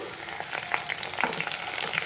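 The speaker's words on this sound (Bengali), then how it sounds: "আলুগুলো একটু হালকা হালকা ভাজা হয়ে গেছে দিয়ে দিলাম টমেটো কুচি" Chopped tomato hits lightly fried potatoes in a hot pan, producing a dense, close sizzle scattered with sharp crackling pops that runs steadily throughout without speech.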